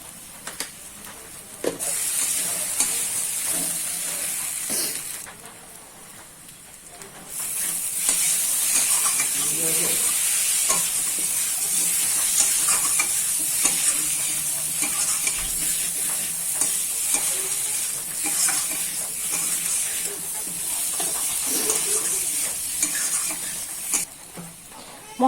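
Spices being stirred and fried in a pan for a wedding-style potol chingri (pointed gourd and prawn) curry, a steady sizzle with repeated scraping stirs throughout, loudening partway through as the cooking intensifies, with faint voices in the background.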